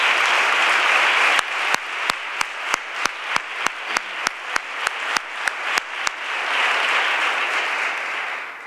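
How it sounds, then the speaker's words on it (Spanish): Crowd applause at a youth Holy Week proclamation event fills the hall, then settles into a slow run of sharp, evenly spaced rhythmic claps before swelling back into dense general clapping. Nobody speaks. "Quiero pedirle a todos un aplauso para ello porque se lo han merecido."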